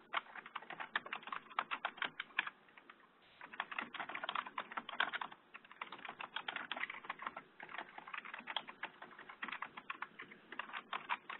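Someone types a phone number and email address on a computer keyboard, producing fast, steady clusters of light key clicks with brief pauses between bursts, close and fairly quiet.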